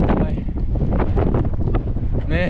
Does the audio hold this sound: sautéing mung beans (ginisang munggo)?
no